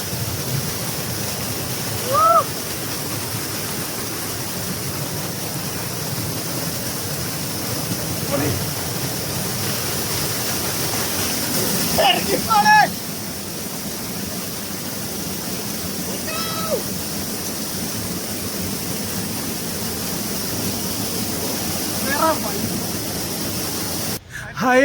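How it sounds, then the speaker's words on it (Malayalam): Steady rushing roar of Chilanthiyar waterfalls at Vattavada fills the whole stretch as broadband noise, with a few brief voices and shouts breaking through now and then. "ഞങ്ങൾ അങ്ങനെ ലാസ്റ്റിൽ ആ വെള്ളച്ചാട്ടം കൈയടക്കിയിരിക്കുന്നു."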